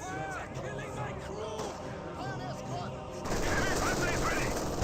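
Heavy panzer tank cannon firing in the Company of Heroes 2 Spearhead mod, among continuous battlefield gunfire and distant chatter, growing louder and denser toward the end.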